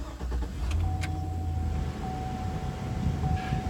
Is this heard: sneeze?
no